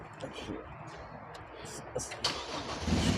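A modified Toyota Revo pickup's engine cranks and catches near the end, rising into a louder rumble after scattered clicks and knocks, while people talk nearby.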